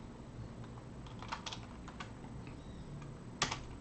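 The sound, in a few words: typing on a computer keyboard in Excel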